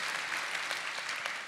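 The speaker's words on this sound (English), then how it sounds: "You can clap for Megan." At a live talk event, the audience claps for a guest: a soft, steady wash of applause from a crowd that stays even from start to finish and carries no talking over it.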